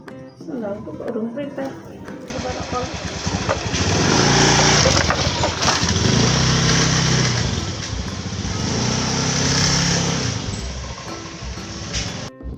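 A motorcycle ride to Pasar Ngaglik market, the light engine droning steadily and swelling louder in the middle, after a brief stretch of talk at the start.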